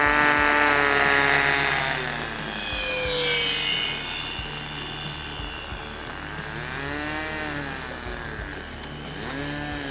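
A Skyraider propeller airplane flies past, its steady loud engine drone rising and falling in pitch through the pass, with brief voices talking underneath.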